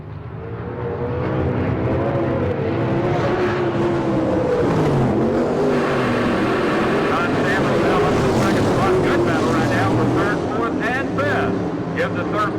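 410 non-wing sprint car engines race at high revs, a loud continuous roar with pitch sweeps as cars pass and accelerate, steady and close for the whole stretch, with a commentator's voice under the engines.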